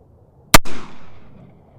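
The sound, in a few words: gunshots from an original Colt Pocket Navy revolver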